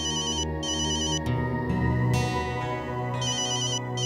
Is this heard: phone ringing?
yes